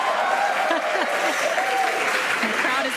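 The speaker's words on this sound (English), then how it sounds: "the crowd is going wild." Crowd cheering and applauding at a rocket launch viewing, steady dense clapping with scattered shouts, loud and continuous throughout.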